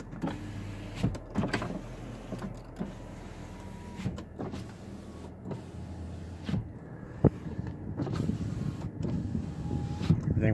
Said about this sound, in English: Test our window.